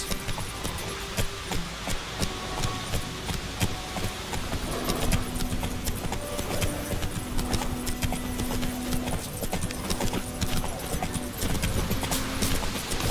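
Hooves of Roach, the horse in The Witcher 3, clip-clop in a steady, even rhythm close by, continuing throughout with faint background ambience.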